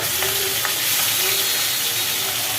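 Fish frying in hot oil gives a steady, dense sizzle and hiss that stays close and even from start to finish, with no speech over it.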